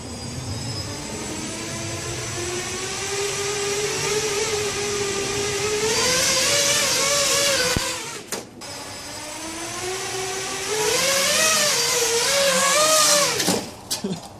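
Electric motors of a foam RC Powers F-35 VTOL model aircraft, flown without wings, whine loudly and steadily, rising in pitch in repeated surges with brief dips where the throttle cuts.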